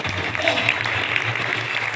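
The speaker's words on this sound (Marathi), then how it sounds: "त्यांच्यासाठी एकदा जोरदार टाळ्या वाजतात" Audience applause breaks out at a Marathi double-bari bhajan contest, a dense burst of clapping from many hands close by, steady and loud for the whole moment.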